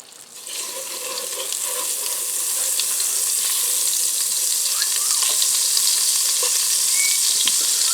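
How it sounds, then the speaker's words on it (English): Sous vide steaks frying in melted butter inside a Ninja Speedi, a loud, dense sizzle that builds after a quiet start and then holds steady, with faint crackles throughout. "We're going to fry these steaks right in the Speedi."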